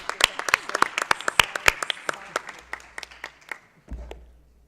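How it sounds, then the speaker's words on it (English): Scattered clapping from a small workshop audience at an internet governance forum session, a few dozen sharp claps thinning out over several seconds, fairly close and moderate in level, with a faint low hum beneath. "Thank you very much for the clapping."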